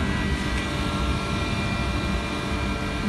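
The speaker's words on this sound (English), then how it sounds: "This is a very old Blue Star fixed speed non-inverter compressor." An old Blue Star ductable air conditioner outdoor unit with a fixed-speed, non-inverter compressor runs with a loud, steady broadband roar and hum, unbroken for the whole stretch with no talking.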